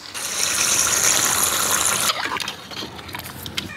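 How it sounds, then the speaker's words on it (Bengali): Hot water pours steadily into a pot of browned beef for a couple of seconds in a loud, close gush, then settles into softer bubbling and sizzling. "মাংসটা কষানো হয়েছে এখন মাংসটা সেদ্ধ হওয়ার জন্য গরম পানি দিয়ে দেব"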